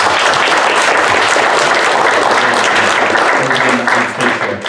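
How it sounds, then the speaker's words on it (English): A town hall audience at a city council district meeting breaks into sustained, dense applause, loud and close, which thins out toward the end as a voice begins speaking. "can we give a round of applause to"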